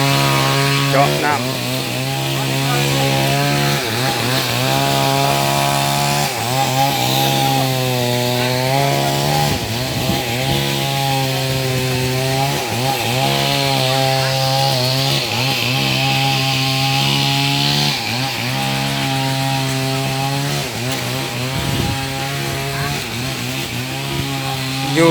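A water well drilling machine runs nonstop with a loud, droning engine hum and a grinding, rising-and-falling mechanical whine, steady and close throughout.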